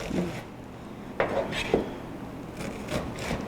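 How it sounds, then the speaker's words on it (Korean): A knife cuts an onion into small squares on a cutting board while curry rice is made. A few scattered wooden knocks and short scrapes stand out at moderate level against quiet room noise. "다시 또 네모나게 썰어 주세요"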